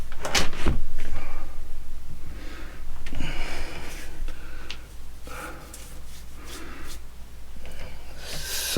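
An exterior man door on a newly installed shed is swung shut, giving a near thud and latch click at the start, followed by softer handling knocks and rustles.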